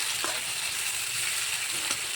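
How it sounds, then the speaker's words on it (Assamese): Steady sizzling of tomatoes frying in a pan for a shrimp dish, a continuous hiss with faint crackles and no voices. "বিলাহীখিনি অকণমান গলি যোৱালৈকে ভাজি ল'ম"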